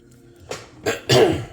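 Three harsh coughs, each louder than the last, close to the microphone with short pauses between them.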